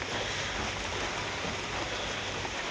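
Steady rain pours down outdoors in rural Thailand, a dense continuous hiss of drops on surfaces, loud and unbroken with no voices.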